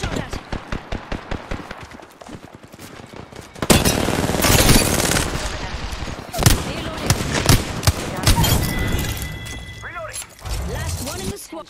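Rapid bursts of automatic weapon fire from the Apex Legends video game, with quick rhythmic volleys giving way to denser, sustained shooting and game effects, loud and close.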